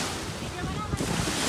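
Crashing, waves-like water surges with heavy wind buffeting the microphone at a riverside pilgrimage site, loud and continuous, with a faint voice underneath.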